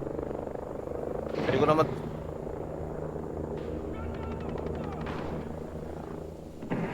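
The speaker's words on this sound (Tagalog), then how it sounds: "Dalawang helicopter" Two helicopters fly in the video game Ghost Recon Breakpoint, giving a constant whirring rotor drone under a man's speech. A short sharp burst breaks in near the start.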